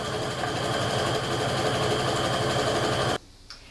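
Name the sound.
sewing machine stitching a fabric strip set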